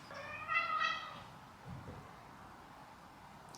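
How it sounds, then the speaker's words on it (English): A cat lets out one drawn-out, clear meow close by near the start, and a quiet room follows. "Cats are just always here."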